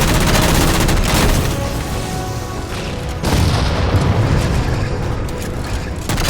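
Heavy sustained gunfire in Halo 4 as jammers are shot down, a continuous loud barrage of rapid shots and booming blasts with no pause throughout.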